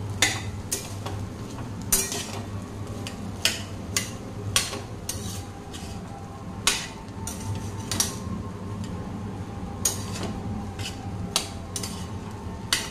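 Egg bhurji rice stirred in a pan over a low gas flame: a spoon clinks and taps against the metal sharply at irregular intervals over a faint steady background, no talking.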